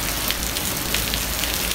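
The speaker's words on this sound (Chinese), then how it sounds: "下了倾盆大雨。" A heavy morning downpour pours without pause, a loud, dense and uniform roar of rain striking surfaces close by, with no voices.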